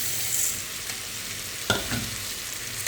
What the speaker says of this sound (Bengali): তো এটাকে ভালো করে একটু ভাজা করে নিতে হবে, তাহলে খিচুড়ির কালারটা খুব সুন্দর হবে।